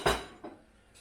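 A spoon clinks twice against a pan while risotto rice is stirred into stock for squash risotto, a sharp knock followed by a softer one.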